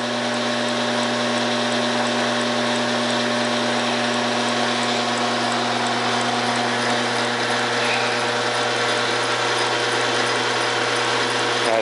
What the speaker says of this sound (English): demonstrating the Rels 5000 gearbox that I've installed on this beautiful AMCO 4000 lathe for Mr. Larry Johnson.